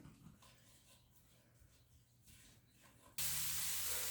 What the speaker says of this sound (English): we'll go ahead and get that sauteed up